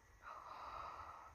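A pet sniffs once, a short, faint, breathy snuffle of about a second, heard alone without talking.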